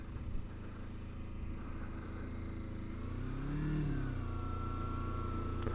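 Kawasaki Versys X300 motorcycle engine during slow, tight low-speed maneuvers, a moderate mid-pitched hum that swells as the rider blips the throttle midway, then settles into a steady idle-like drone without speech.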